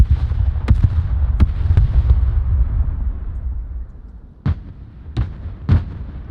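Artillery fire mission in the video game Broken Arrow: a low rumbling barrage with several sharp distant booms and cracks spaced irregularly, the rumble fading midway before three more loud bursts.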